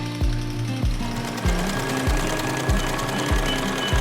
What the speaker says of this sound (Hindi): देश के कई हिस्सों में सिलाई मशीनों पर काम जारी रहा